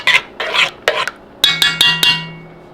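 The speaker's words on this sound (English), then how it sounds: "Stir that in." A spoon works through cheddar cheese soup in a pot, a few soft scraping strokes followed by several sharp metallic taps and clinks against the pot, close and clear with no talk.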